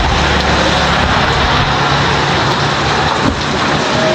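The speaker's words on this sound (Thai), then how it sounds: "ฝนตกนะ" Heavy rain pours down steadily, a loud dense hiss of drops hitting surfaces that continues unbroken, with no voices.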